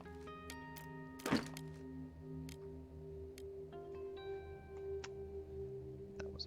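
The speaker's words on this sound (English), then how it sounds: "That was a firework." A single firework bang in the war survival game This War of Mine, one sharp, fairly loud burst that fades quickly against a quiet backdrop of sustained musical tones and soft ticks.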